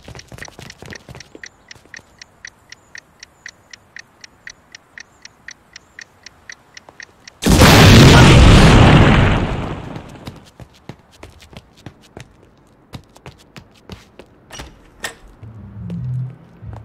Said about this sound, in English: Want me to blow it up? Just gotta set the fuse.